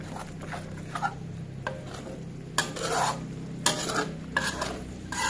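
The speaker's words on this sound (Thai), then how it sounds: "เราค่อยๆเติม หัวกะทินะคะ เข้าไปนะคะ ทีละน้อยนะคะ แล้วก็ผัดให้เข้ากันนะคะ" Thai chicken and bamboo-shoot curry stir-fried while coconut cream is added bit by bit: a low bubbling sizzle with intermittent scraping and clinking of a utensil against the pan, close and unaccompanied by speech.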